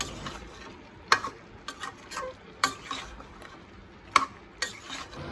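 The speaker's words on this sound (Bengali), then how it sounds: "চিকেনটা ফ্রাই হতে দিয়ে দিলাম" Chicken frying in a pan with chili and turmeric powder, a low sizzle under intermittent scraping and stirring clicks from a spatula, heard up close with no voices.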